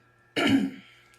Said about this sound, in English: Pardon me while I choke.